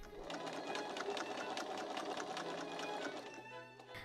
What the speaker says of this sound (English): Wrestling the boned bodice of the dress through the sewing machine was tricky